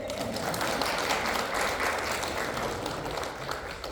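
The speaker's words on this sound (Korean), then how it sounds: "우리 아멘다를 해서 박수 한번 쳐드리겠습니다." A church congregation claps during a Korean Sunday worship service, a dense, even round of applause that holds steady throughout, fairly close and full, with no voices over it.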